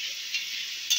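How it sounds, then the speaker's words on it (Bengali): Onions frying in a pan, a steady bright sizzle running without a break through a brief moment, with a small stirring scrape near the end. "আমার পেঁয়াজ ভাজা হচ্ছে"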